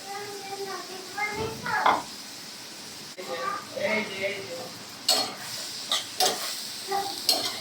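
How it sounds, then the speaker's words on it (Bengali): Papaya and red lentils fry in butter in a pan, a soft sizzle with spoon stirring and a few sharp clinks of a utensil against the pot, while people talk over it and children's voices are heard. "এখন আমি এই ডালটা দিয়ে সুন্দর করে পেঁপেটা ভেজে নিব"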